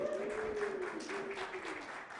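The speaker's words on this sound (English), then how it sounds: "So big round of applause." A tech meetup audience gives a short round of applause, a soft, distant patter of clapping under a faint voice.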